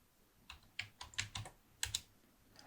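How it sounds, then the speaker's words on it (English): Typing a short command on a computer keyboard at a command prompt, about eight crisp, close keystrokes in an uneven quick burst, with no voices. "let's type javac"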